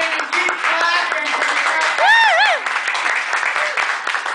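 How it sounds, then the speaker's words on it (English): A comedy show audience claps steadily while whoops and shouted voices rise over the applause, with a brief high whistle-like cheer in the middle. "keep clapping"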